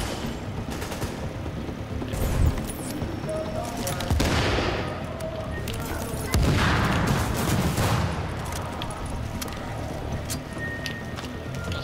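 Gunfire in Tom Clancy's The Division, with dense rattling bursts and booming impacts layered over continuous game noise, with a voice talking over it at times.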